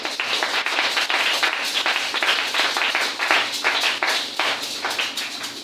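Dense, steady applause from a church congregation, with many hands clapping continuously and loudly throughout.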